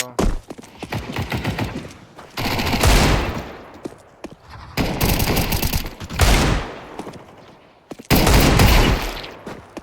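Desert Eagle pistol fire in Counter-Strike 2, loud close bursts of shots in clustered volleys with brief pauses between them, repeating across the span without talk.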